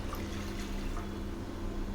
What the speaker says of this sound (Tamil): இப்போ இதில் ஒரு சொம்பு தண்ணி ஊற்றி